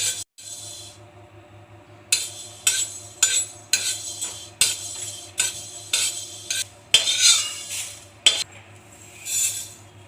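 Fennel seeds dry-roast in a pan over high flame while a metal spoon stirs and scrapes steadily, giving close clinks and scraping strokes in an irregular rhythm with a faint hum underneath.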